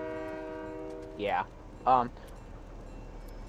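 A train horn in the video game Fortnite sounds two short blasts a few seconds apart, after a steady low tone, with a voice briefly talking over it.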